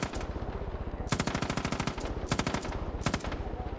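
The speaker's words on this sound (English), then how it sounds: "I think that might have been a turret." Automatic turret fire in the video game Far Cry 5, rapid machine-gun bursts in several loud, close volleys separated by short pauses, with no talking.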